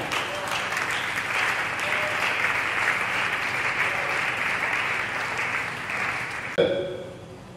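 A church congregation at an evening prayer service applauds steadily and loudly for about six and a half seconds, a dense sustained clatter of many hands that breaks off abruptly near the end.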